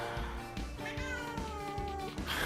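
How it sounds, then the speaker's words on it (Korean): Several house cats meow at home, with repeated tonal cries rising and falling over a steady low indoor hum, fairly close and continuous across the moment. "집에서 녹음할 경우에는 이제 고양이들 울어도 이제 끊지 않기로 했어요"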